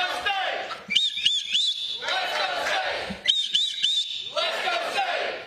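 A man in a live studio audience whistling, short rising chirpy whistles in two bursts amid crowd noise and talking voices.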